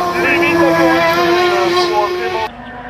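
Race car on a hill climb course in Hébécrevon, its engine roaring loud and close with a steady, sustained tone before dropping off sharply near the end, while a commentator talks over it.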